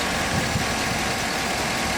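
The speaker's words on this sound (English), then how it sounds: "The engine is nice and strong, it's not leaking any fluids" A 2014 Chevy Tahoe PPV engine idles at close range, a steady, even low rumble and hum with no talking.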